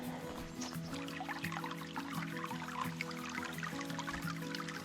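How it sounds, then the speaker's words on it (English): Running water trickles and drips steadily near a bridge at a lake on a cold, damp day, a continuous close babbling with a low steady hum beneath it. "I hear running water"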